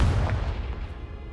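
Fiery Confringo blast spell cast in the Hogwarts Legacy game, a loud booming burst with heavy low rumble that rolls on and slowly fades across the moment, no talking.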